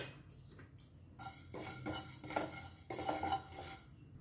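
Sesame seeds roasting in a pan while a spoon stirs them, producing soft, close scraping and rattling in several bursts between brief quieter gaps.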